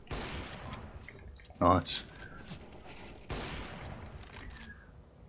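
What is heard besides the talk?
gunfire in the video game CS:GO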